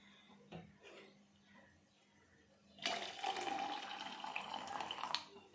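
Boiled water is poured into a mixer jar to make bulletproof coffee with coconut oil. After a few soft handling sounds, a short burst of splashing, gurgling pouring begins and lasts about two and a half seconds.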